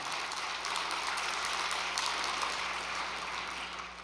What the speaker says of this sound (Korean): 격려의 박수 한번 보내주시기를 바랍니다.